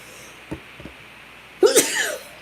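After a couple of faint clicks, a single loud, close sneeze erupts in a sharp, breathy burst that trails off briefly, from someone suffering from allergies.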